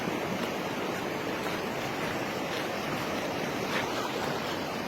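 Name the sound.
strong river current flowing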